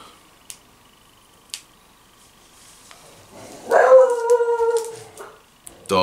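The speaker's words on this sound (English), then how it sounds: "Dog, annoying." A dog gives a couple of sharp, distant single barks, then breaks into a drawn-out howl of several seconds, rising and wavering before another bark closes it.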